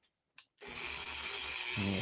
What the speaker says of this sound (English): So what I do is I take a sanding bit,